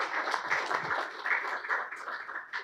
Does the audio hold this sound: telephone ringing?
no